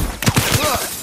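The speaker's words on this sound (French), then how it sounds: "Ça va exploser!" A video game explosion in Black Ops 3, a short loud close blast with a shattering crack and rumbling debris that trails off within about a second.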